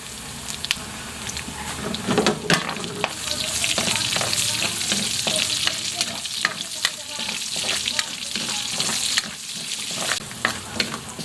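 Ginger sautés in a hot pan with a bright continuous sizzle, punctuated by sharp stirring scrapes and crackles, close and unaccompanied by talk.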